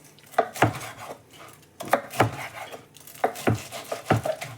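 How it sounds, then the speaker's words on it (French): A knife cuts a cooked pork cutlet into small pieces on a board, with repeated crisp chopping knocks in small bursts, close and fairly quiet. "On va la découper en petits morceaux, elle est belle."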